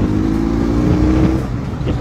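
A Benelli Leoncino 500 motorcycle is heard on the move, a loud, close engine drone with a steady pitch that eases slightly near the end, with no talk over it.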